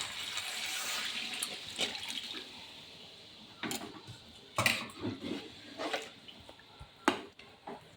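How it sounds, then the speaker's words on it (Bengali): Water is poured into a pot of chicken curry in a home kitchen, a running splashy pour with a few louder sloshes and drips, close and without talk. "এবার এর মধ্যে আমি একটু জল দিয়ে দেবো।"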